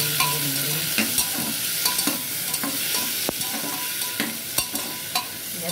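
Nigella seeds and green chili frying in hot oil while being stirred, a continuous crackling sizzle broken by sharp stirring scrapes and pops, with no talk.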